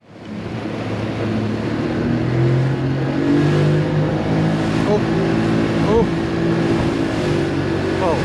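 A boat's outboard motor during takeoff tests for setting engine height, starting up and then running loud and steady as it throttles, with a rising engine drone throughout and a voice briefly audible.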